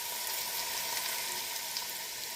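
Hot oil hits a dried chilli mixture and sizzles in a continuous, even hiss, close and moderately loud with no other sounds.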